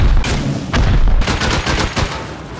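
A rocket launches at a base in a video game, with loud, sharp blasts and a crackling burst that fades out over a couple of seconds.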